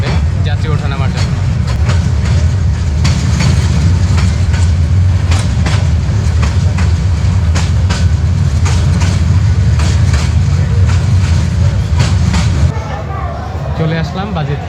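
Train running on the Dhaka to Kishorganj line between Kuliarchar and Bajitpur stations, a steady loud rumble of carriages with rhythmic clicking of wheels on rail joints, someone talking over it throughout before the noise eases near the end.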